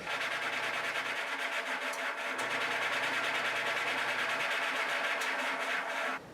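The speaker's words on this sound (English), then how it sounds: "I use the outside of this radius sander" A guitar nut blank is rubbed back and forth against the curved outside of a radius sander, making a continuous, even, close rasping and grinding sound that runs steadily without pause and with no talking.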